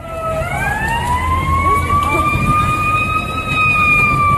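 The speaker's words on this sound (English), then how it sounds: "Fire truck." A loud fire truck siren wails upward and holds a long, rising tone, close by, with engine rumble beneath.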